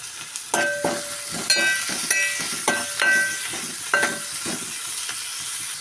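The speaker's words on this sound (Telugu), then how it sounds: "ఉల్లిపాయ ఇవన్నీ ఇందులో అయితే వేసి వేపుకోవాలి ఆయిల్ అయితే హీట్ అయిందండి" Chopped onions fry in hot oil in a pan for potato bonda, a continuous sizzle with sharp crackling pops and stirring clinks at irregular intervals, close and fairly loud with no talking.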